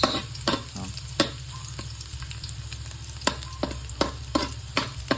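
Garlic sautés in a pan with a steady sizzle, broken by repeated scraping stirs and clinks of a utensil at close range, with no voices.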